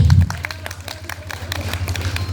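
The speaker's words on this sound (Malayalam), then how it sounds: "കയ്യടി" An audience claps at a stage event, a short burst of dense applause from a crowd, fairly loud and close.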